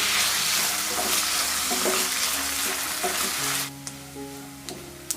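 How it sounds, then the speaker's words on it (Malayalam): Mutton boti pieces frying in coconut oil in a hot pan, a steady close sizzle with occasional stirring scrapes that thins out near the end, leaving quieter pops and crackles. "ഇനി ബോട്ടി വറുക്കാനായിട്ട് നമുക്ക് പാൻ അടുപ്പത്ത് വെച്ച് ചൂടായിട്ട് കുറച്ച് വെളിച്ചെണ്ണ ഒഴിച്ചിട്ട് ഇട്ട് ഇതിലെ വെള്ളം ഒന്ന് വറ്റിച്ചെടുക്കാം"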